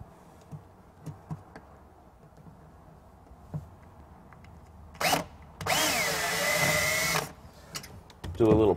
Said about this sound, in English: Do a little pre-drill.